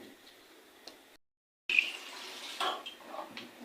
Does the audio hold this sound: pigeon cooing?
no